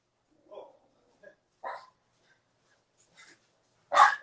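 A puppy lets out short, high yips and soft whimpers, about five brief bursts separated by silence, ending with a louder bark, close by in a quiet room.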